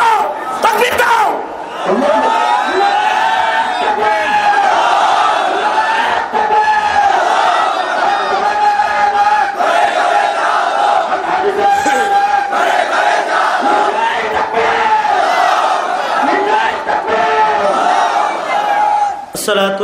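A large outdoor crowd at a waz mahfil religious gathering chants takbir in unison, a continuous loud roar of many voices rising and falling in long collective calls, with a speaker's voice leading over it.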